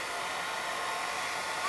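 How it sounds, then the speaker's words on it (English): Hairdryer running on a low heat setting for work on a grimy ZX Spectrum 48K, a steady close whooshing blow of air with a constant motor whine, unbroken and alone. "So, here we are with a hairdryer."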